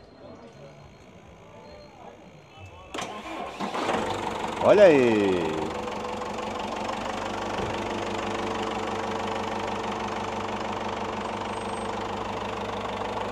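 A used popular car at an outdoor used-car fair in Caruaru, Brazil, cranks briefly, catches and settles into a steady, slightly knocking idle that runs on evenly; someone speaks briefly over the start.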